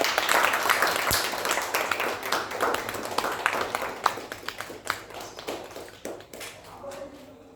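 A launch-event audience claps, bursts of hand claps and scattered taps that thin out and fade toward the end, with some voices mixed in.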